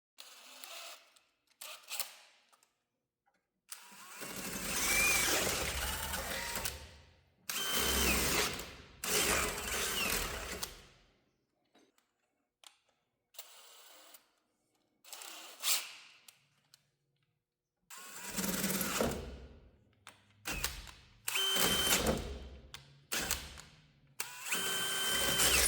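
A drill enlarges bolt holes in steering parts on a C50 truck build, running in several loud bursts of about two to four seconds with quiet pauses between them.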